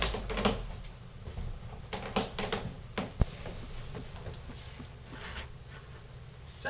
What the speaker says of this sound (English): First, you got to fold up the roof.